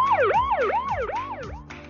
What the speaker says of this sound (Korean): 안녕, 나는 소방차 삐뽀야.